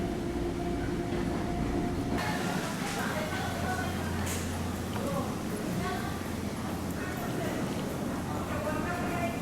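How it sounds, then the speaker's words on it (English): A passenger train runs toward Babylon by way of Jamaica station, its steady rumble and rhythmic wheel clatter filling the clip at a moderate level, with a recorded announcement voice speaking over it. "This is the train to Babylon."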